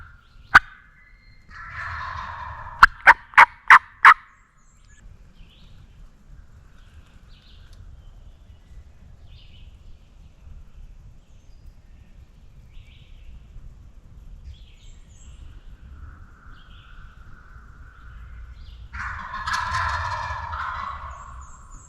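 Wild turkey gobblers in spring woods give a few loud, rattling gobbles close by, then quieter gobbling and soft spitting follow over a low rustling background, with another gobble burst near the end.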